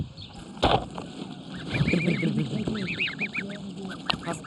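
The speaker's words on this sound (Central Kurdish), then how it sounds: "ئەو خۆی 4 قازی مێ و نێرێک و 24 بەچکەی هەیە." Geese, a flock of four females, one male and 24 goslings, honking repeatedly in short nasal bursts at moderate distance over steady outdoor background noise.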